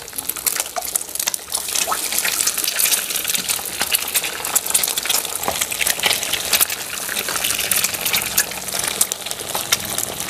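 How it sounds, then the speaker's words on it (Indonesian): Eggs cracked together into a pan fry in a home kitchen, giving a steady, dense sizzle and spatter of hot oil with scattered sharp pops, constant and close throughout. "Goreng telurnya tak ceplok bareng ben cepet ya."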